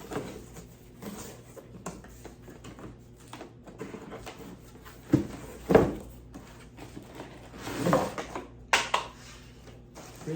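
Cardboard packaging of a Hoover ONEPWR Blade Jumpstart 4Ah cordless stick vacuum is opened up close, giving soft rustling and scraping with several sharper thumps and crinkles clustered in the second half. No voices.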